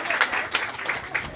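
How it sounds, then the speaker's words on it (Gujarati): A group at a Gujarati religious storytelling session on the Dashavatar claps briefly, a close, uneven burst of hands with a few distinct louder claps, with no talk. "વેરી ગુડ, હનુમાન પર તાળી આપો."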